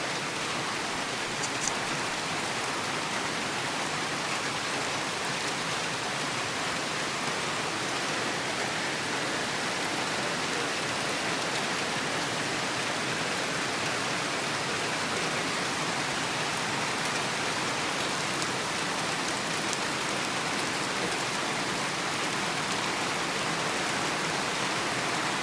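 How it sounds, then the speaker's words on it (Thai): Heavy rain pouring onto a corrugated zinc roof during the rainy season at a rural rubber plantation in Laos, a dense, even hiss that stays steady for the whole stretch without talking. "ฝนตกแบบนี้ตกใส่หลังคาสังกะสี"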